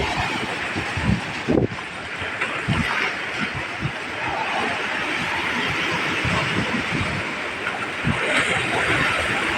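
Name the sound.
ocean waves breaking on the beach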